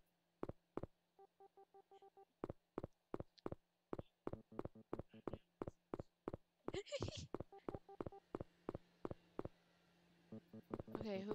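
Rapid telephone keypad tones beep in a steady run of short, evenly spaced presses, with a brief burst of higher-pitched ringing partway through; a low background hum persists, and no one talks over the dialing.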